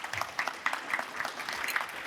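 Moderate applause from a seated audience at a data science festival talk, steady and somewhat distant, with individual claps blurring into a soft continuous patter for a couple of seconds.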